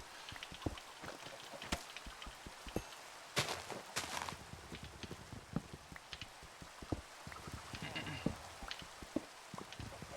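Video game rain in Minecraft Skyblock patters irregularly on a surface, with scattered close drops and occasional sharper taps over a soft hiss; no voices are evident.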